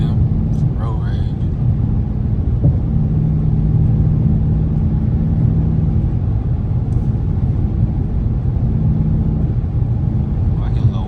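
A car's engine intake roars steadily during acceleration, a loud, continuous low drone heard from inside the car, with voices talking over it.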